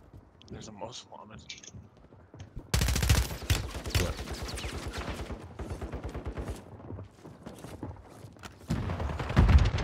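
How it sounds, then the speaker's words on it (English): Bursts of rapid automatic gunfire from a Call of Duty Warzone match crackle in dense volleys, pausing and resuming loudly, with a player talking over the shots. "How is he shooting me?"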